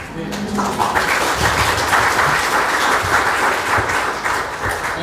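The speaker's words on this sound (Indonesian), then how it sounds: "Kamu tepuk tangan sama siapa?" Sustained applause from a church congregation after a sermon, loud and steady throughout, with a voice talking over it near the start.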